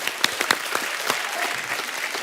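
Studio audience at a television comedy show clapping together in a brief, dense burst of applause with a few sharper individual claps standing out.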